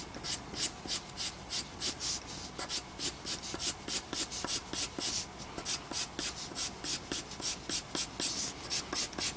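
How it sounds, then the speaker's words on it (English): Charcoal pencil sketching a horse's mane on paper, heard as a steady run of quick, close scratchy strokes, about two or three per second, alone and without talk. "Back here on the back part of his mane then, with my charcoal pencil."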